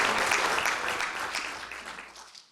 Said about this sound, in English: what about one more round of applause for Stuart and our pharmaceutical hosts?